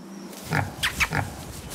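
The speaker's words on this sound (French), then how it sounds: "Ces petits cochons nains vietnamiens" Vietnamese pot-bellied pigs at a decorative farm give several short grunts in quick succession, close by and moderately loud, over a quiet background.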